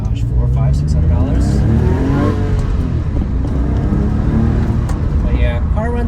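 A Porsche 911 of the 997 generation with 144,000 miles runs nearby, its engine note rising and falling through revs as a steady loud drone with sweeping tonal changes, partly blurred by road or wind noise.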